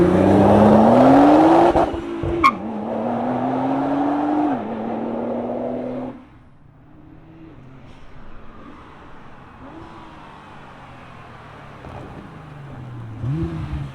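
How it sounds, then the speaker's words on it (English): A 2016 Nissan GT-R Black Edition cranks and fires up, its engine barking loudly and revving in rising pulls for several seconds, then dropping to a lower idle with short repeated blips, close and without talk. "Let's fire this thing up and see it launch."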